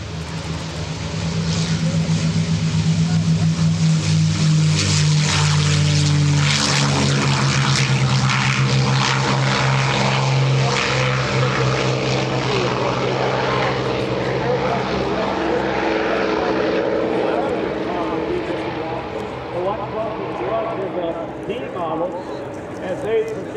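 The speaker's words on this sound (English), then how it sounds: "When the P-51 with the Rolls-Royce Packard-built Merlin engines take off, everybody wants to hear the engine." A P-51 Mustang warbird with a Packard-built Rolls-Royce Merlin engine takes off at an air show, its loud propeller drone holding steady and close before slowly fading, with a voice talking over it throughout.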